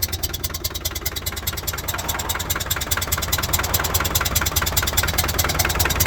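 Land Rover Defender 300Tdi diesel engine running steadily after overheating, a loud, even idle with rhythmic knocking clatter throughout, no talking.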